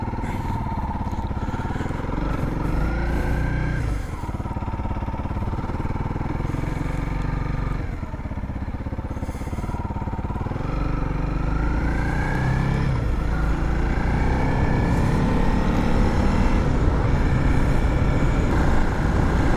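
A Honda CRF 300L motorcycle is ridden with its engine droning loudly and steadily, the pitch rising and falling with each gear change and acceleration, along with heavy wind rush.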